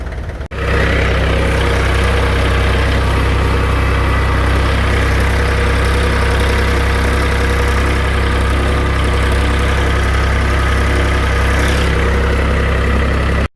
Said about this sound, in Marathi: आता ट्रॅक्टरच पाईप ओढणार आहे, कारण आता माणसं पण नाही म्हणाले हातानं मला